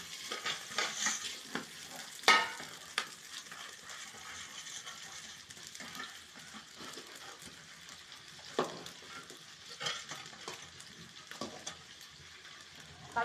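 Soaked rice tossed into a pan of hot whole spices, cloves and pepper among them, for biryani: a soft, steady sizzle broken by repeated scrapes and clinks of a spoon stirring, fairly quiet throughout.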